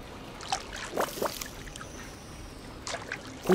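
Watering plants in Disney Dreamlight Valley gives soft, faint splashes and trickles of pouring water in a few short bursts over a quiet background.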